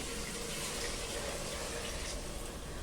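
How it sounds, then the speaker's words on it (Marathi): Water being poured into a cooking pan while making stuffed brinjal masala curry, a steady close splashing gush that runs unbroken throughout. "आपण याच्यामध्ये थोडंसं पाणी टाकूया अंदाजाने"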